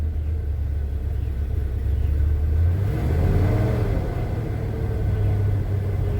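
A 1978 Chevy C10 pickup's engine idles just after starting, giving a steady, close, low rumble that swells slightly in the middle as if briefly blipped before settling back to an even idle.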